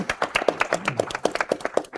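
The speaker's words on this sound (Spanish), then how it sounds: "Bueno, aplaudimos también" A small audience at a national quail forum claps in a brief, close burst of distinct, uneven hand claps that thin out quickly.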